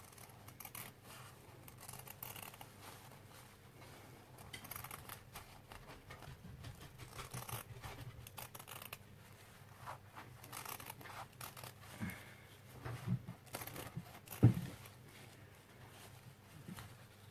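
Scissors snip through layers of fabric for a shabby chic flower, faint soft cuts and rustling close by, with a couple of sharper clicks near the end and no talking.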